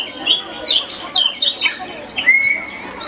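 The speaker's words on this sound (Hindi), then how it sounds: "देखा तुमने महात्मा की कुटिया की चिड़िया बोल रही है" Birds chirp and tweet around a forest hermitage, a steady layer of high, overlapping calls and short whistled trills that carries on without a break over a soft background.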